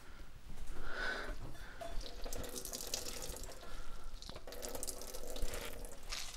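Liquid squeezed by hand from grated cucumber drips and trickles into a kitchen sink, a close, soft, uneven patter of splashes with no voices.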